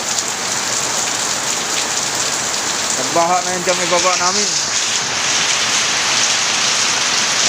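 Heavy downpour roaring steadily and loudly, a constant dense hiss of rain; someone speaks briefly in the middle over the rain.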